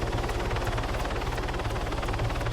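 Two helicopters flying overhead, their rotors beating in a steady rapid thump under a continuous loud engine roar that stays constant throughout, with no talking.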